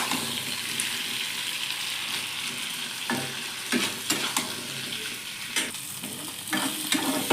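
Pre-boiled potatoes sauté in a hot pan with a broad, steady sizzle, broken by several scraping stirs of a spatula toward the end; close and fairly quiet, with no talking.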